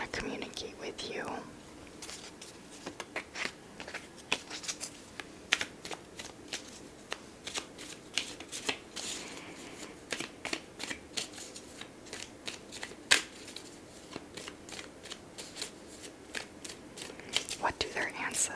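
Tarot cards being shuffled and drawn at close range, a long stream of crisp riffles, flicks and slaps in uneven bursts, with soft whispered speech drifting underneath.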